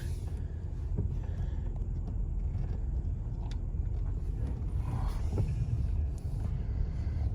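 A 2004 Toyota Tundra TRD pickup with 74k miles reverses slowly through a tight spot, producing a low, steady engine rumble close by with faint rattles and no speech.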